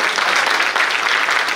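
Steady, loud applause from a crowd at a hospital walkathon event in Nagpur, India, a dense wash of clapping throughout with no breaks.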